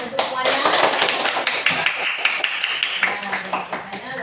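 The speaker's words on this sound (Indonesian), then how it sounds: "Tepuk tangan untuk semuanya." Primary school classroom pupils clapping hands together, a burst of uneven nearby claps with children's voices mixed in.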